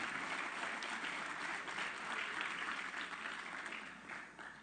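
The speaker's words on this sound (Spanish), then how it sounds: "Dale un aplauso al Señor." A church congregation claps for the Lord during a Spanish-language sermon, a dense, sustained round of applause filling the room evenly and easing off slightly at the end.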